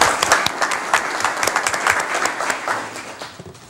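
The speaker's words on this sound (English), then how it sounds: "If we can give her a round of applause." An audience at a school district board meeting applauds a school principal, dense clapping that swells and then gradually thins and fades over several seconds, with no talking over it.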